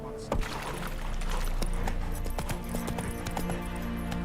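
Roach, the horse in the video game Witcher 3, gallops with a steady stream of hoof clip-clops. Voices speak over the hoofbeats along with other game sounds.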